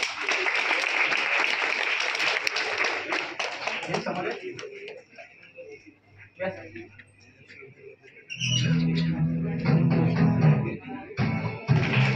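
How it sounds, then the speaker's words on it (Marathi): Audience at a National Science Day liquid nitrogen show clapping for students, dense applause filling the opening seconds and fading out, followed by someone speaking over a low hum as a second burst of clapping returns near the end. "सर्वांनी टाळ्या वाजवायच्या"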